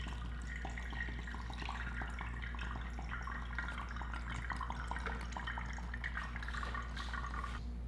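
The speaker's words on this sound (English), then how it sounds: "I'm gonna go ahead and pour it through our paper filter." Cold brew coffee pours through a paper filter in a soft, steady trickle with faint drips, low and continuous over a constant background hum.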